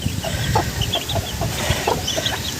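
Chicks from a John Bishop Kelso peacomb hen cheep and peep in a close, busy chorus of short overlapping calls, with no talking.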